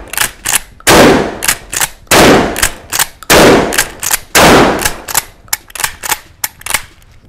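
A Derya Carina shotgun loaded with 00 buckshot fires a string of loud, sharp reports, several big blasts with ringing tails mixed among quicker snapping shots, close and dominant.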